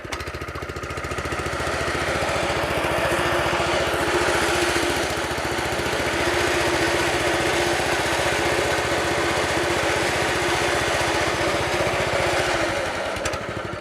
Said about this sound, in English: I'm mowing my lawn with absolute huge excitement